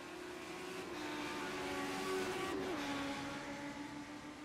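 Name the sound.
race cars on track in iRacing video game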